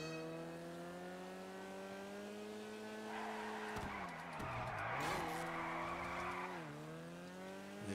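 Car in GTA roleplay driving with a steady engine drone, then sliding through a corner with a loud tire squeal and skid in the middle before the engine settles again; no talk.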